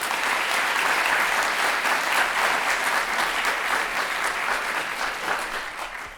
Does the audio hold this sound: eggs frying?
no